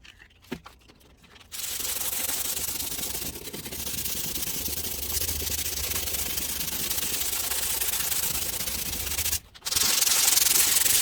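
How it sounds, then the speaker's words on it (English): Body of a Ford Ranger being sanded by hand with 80 grit sandpaper during bodywork prep: a steady, close, rough rasping scrub that runs almost without a break for several seconds, then stops briefly and starts again. "roughen up this area just so the body filler can really bite into either the paint or the body, and then we'll just sand that down. So it's 80 grit."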